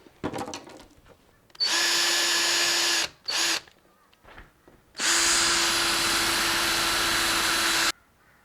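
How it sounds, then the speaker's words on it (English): A power drill bores holes through plastic for a homemade biltong box, two strong high whining bursts of about a second and three seconds separated by a brief blip, with faint handling noises and quiet gaps between. "So we'll start drilling."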